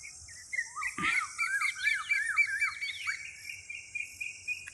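Birds call and chirp from trees in the morning, a busy chorus of bright, rising and falling notes with steady repeated phrases over a faint background hum, fairly close and clear with no talking.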